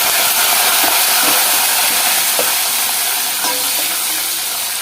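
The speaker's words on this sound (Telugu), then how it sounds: "పోపు చక్కగా ఇలా సిమ్లో పెట్టుకొని వేపుకుంటే చక్కగా ఇలా దోరగా వేగుతాయి అనమాట" Tempering spices frying in oil on a low flame for vakkaya pappu make a steady, loud broadband sizzle, a continuous hiss broken by scattered tiny pops and crackles close by, with no voices.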